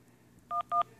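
Two short telephone DTMF dialing tones beep in quick succession, each lasting about a tenth of a second, over a quiet low hum with no talking.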